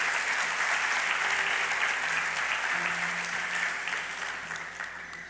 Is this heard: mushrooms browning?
no